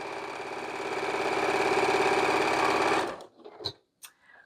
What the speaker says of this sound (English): and sew it on